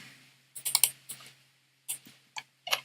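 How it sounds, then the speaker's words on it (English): Fingers type on a computer keyboard in a few short bursts of close, crisp key clicks separated by brief pauses, with no voices. "I'm just gonna type my brand name in there."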